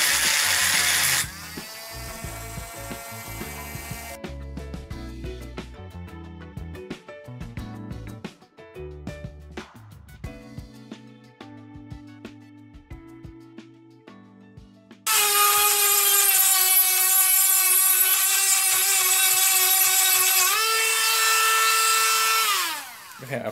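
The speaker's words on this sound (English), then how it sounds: "Now all I'm going to do is get the Dremel, and then we'll just clean it up a little bit with the grinder." A Dremel rotary tool and then an angle grinder work metal while fabricating a swingarm nut tool for a Sur Ron Light Bee, a high whine, irregular buzzing contact, then a loud sustained grinder howl winding down.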